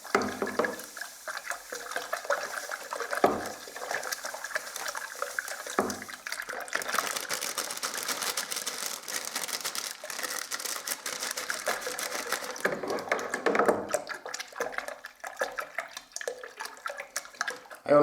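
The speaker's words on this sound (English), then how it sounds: "So, bucket of water, and I've snipped the corner off the pack and literally just agitate the water" Wallpaper paste is stirred by hand into a bucket of water, giving irregular sloshing and splashing with scattered knocks against the bucket, close by.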